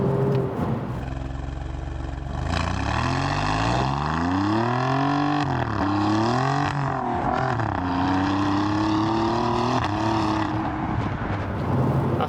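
Alfa Romeo Giulia Quadrifoglio accelerating hard, its engine note climbing steadily through several gear changes, loud and close with a sustained rising roar that dips briefly at each shift.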